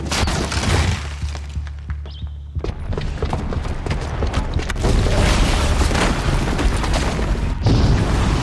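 A booby-trapped bomb goes off in Horizon Zero Dawn, heavy booming blasts and shattering debris rolling through the scene, loud and close, with a brief quieter lull before the rumbling resumes and continues to the end.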